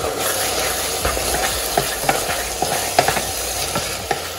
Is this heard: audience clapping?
no